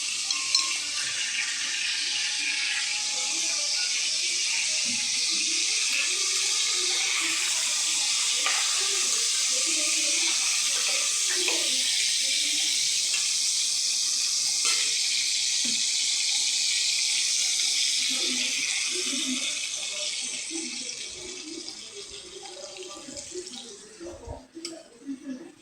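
Water poured into a pan while cooking duck egg curry, a steady loud hissing pour that runs unbroken for about twenty seconds before tapering off amid faint kitchen clatter.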